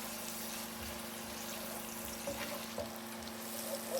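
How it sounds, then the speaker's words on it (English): Onion slices frying in a pan with a pinch of salt, a faint steady sizzle with light crackles and a low background hum, quiet and even throughout, no talk. "Fry the onions until they turn golden and soft, about 7 minutes."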